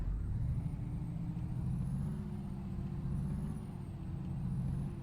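A truck idling in a trucking video game, heard as a continuous low diesel rumble with a faint high whine drifting up and down, steady and fairly quiet, with no talking.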